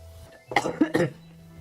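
A short fit of coughing, two or three rough coughs in quick succession, close by, with a low hum in the background.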